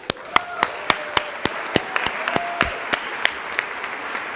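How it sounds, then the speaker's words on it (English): A church congregation gives a round of applause, a dense wash of many hands clapping with sharper individual claps standing out at a steady pace, moderately loud and reverberant, with faint voices mixed in. "we deserve a round of applause for all of us."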